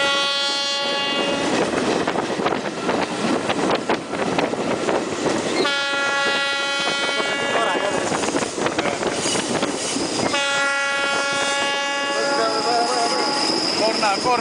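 A train horn blares three times in long, loud chord blasts spaced several seconds apart, over a steady rattling rumble of rolling cars, on the Tripolis-Kalamata line in Greece during a railfan excursion.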